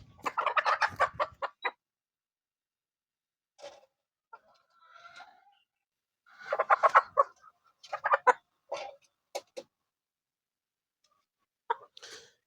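Chickens on a poultry farm cluck in scattered bursts, close by, with quiet pauses between the calls.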